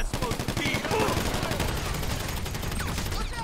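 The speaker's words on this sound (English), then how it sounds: "Why are they shooting from there?" Rapid, dense gunfire in a GTA 5 Online mission, Daemon Run: continuous overlapping bursts of automatic shots crackle loudly throughout, with a voice speaking underneath.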